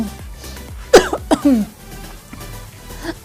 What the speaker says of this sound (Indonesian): Batuk jadinya.